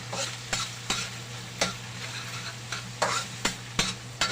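Pork fat being sautéed and stirred in a pan for ginataang gabi, a steady sizzle broken by regular scraping strokes of a utensil about every half second, close and moderately loud, with a low steady hum underneath.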